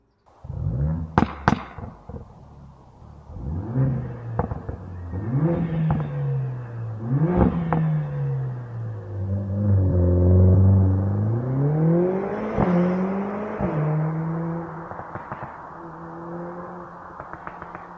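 A Mercedes-AMG CLA45 S with a loud, raspy modified exhaust accelerating through the gears, engine revs rising and dropping, with sharp pops and crackles on lift-off.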